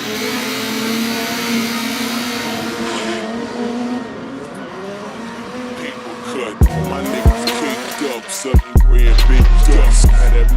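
Drift cars at a D1NZ event at Wellington Speedway, with a loud engine roar and long, screeching tire squeals, then a series of sharp bangs and bursts near the end.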